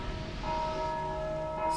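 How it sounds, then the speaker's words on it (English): Church bells ring in Dark Souls 2, a sustained metallic tolling tone with lingering overtones that swells slightly midway, heard on its own. "Stop it with your ringing and your bells"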